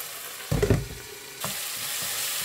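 Tomato cooking with French beans and potato in a pan, a close sizzle with a brief burst of stirring and clatter early on, then a steady quieter fry.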